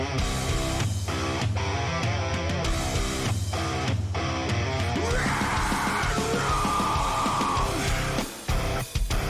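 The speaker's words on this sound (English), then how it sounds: "So we got some screaming as well, that's nice." Harsh screamed vocals ride over a heavy metal song with dense distorted guitars and drums. The mix is loud and continuous, with a few abrupt drops near the end.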